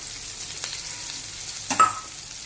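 Chopped onion, capsicum and chillies frying in oil in a pan for homemade leftover-roti noodles, a soft steady sizzle with a couple of stirring scrapes, close and quiet.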